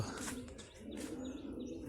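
Pigeons cooing in a loft as they perch and move about, a steady low burbling murmur running throughout with a few brighter chirps on top, close and fairly faint.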